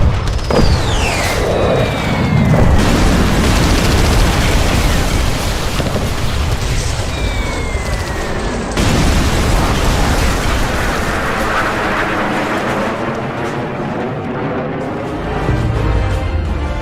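Heavy explosions from weapons fire striking a target during a military strike, a dense, loud barrage of booming blasts that roars continuously, with rumbling low-end and a sharp fresh burst partway through.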